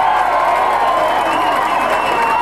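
A rugby league crowd at a 1993 Keighley Cougars versus Batley match cheers a try, a steady broad roar of many distant voices holding at an even level throughout.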